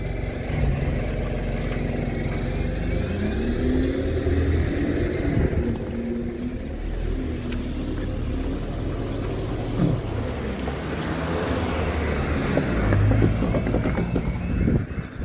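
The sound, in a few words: Borders bus passing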